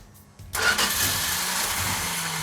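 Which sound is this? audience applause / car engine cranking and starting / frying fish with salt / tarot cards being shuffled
car engine cranking and starting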